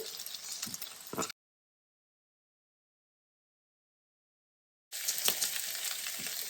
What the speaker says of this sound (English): what I'm going to do is add the potatoes that we fried up